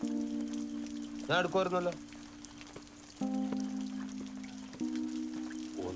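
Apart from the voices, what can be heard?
rain falling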